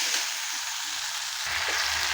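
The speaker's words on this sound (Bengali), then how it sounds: "আলু চিংড়ি মাছ সব আমি একসঙ্গে দিয়ে দিলাম। দিয়ে খুব ভালো করে আমি নেড়ে নেবো ওই পাশ থেকে এই পাশ করে" Potatoes and prawns fry in spices for a jackfruit prawn curry. A short, even, dense sizzle fills the moment with no voices, and a low rumble of stirring comes in near the end.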